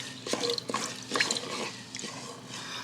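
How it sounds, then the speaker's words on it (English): Tomato paste stirred into a plant-based chicken enchilada filling in a pan, with soft wet scraping and clicking strokes at an uneven pace, fairly quiet and close. "And we're gonna stir this all up."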